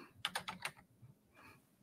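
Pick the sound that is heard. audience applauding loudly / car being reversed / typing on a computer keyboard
typing on a computer keyboard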